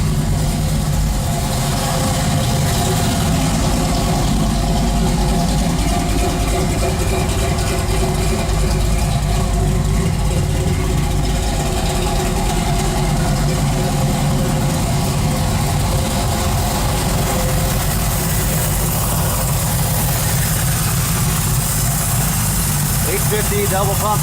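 A 1973 Camaro V8 fitted with an 850 double-pumper carburetor idles cold at about 800 rpm, a steady, smooth low rumble running close throughout while someone talks over it.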